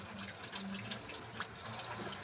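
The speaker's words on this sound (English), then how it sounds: "I'm gonna wash again." Tap water runs steadily in a kitchen while hands are washed beneath it, a soft, continuous splashing hiss heard faintly and close with no talk.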